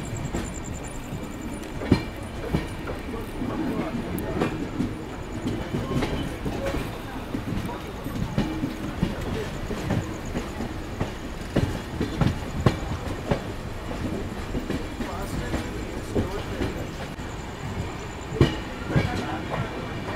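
A train runs along the rails on the line from Yeshwantpur into Yelahanka, with a steady rolling rumble and rhythmic clickety-clack of wheels heard up close, plus occasional voices in the background.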